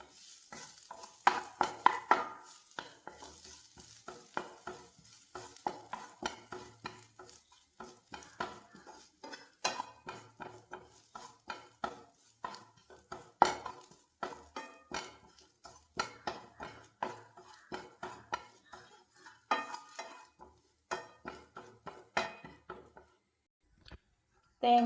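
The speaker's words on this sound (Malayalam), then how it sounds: "തേങ്ങയൊന്ന് ചെറിയ തീയിലിട്ട് വറുത്തെടുക്കാം." Grated coconut roasts in a pan over a low flame, its faint sizzle broken by many sharp scrapes and knocks of a spoon against the metal in an uneven rhythm.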